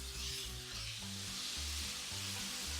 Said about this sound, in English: I'm just looking to get these tomatoes just to begin to cook a little bit in here.